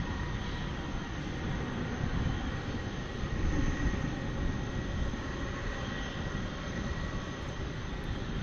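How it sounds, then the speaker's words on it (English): A UPS Airbus A300 taxis out at Dallas Fort Worth International Airport, its engines giving a steady, loud broadband roar and whine that holds constant throughout with no talk. "It looks like we've got another A300 from UPS Mini Port taxiing out."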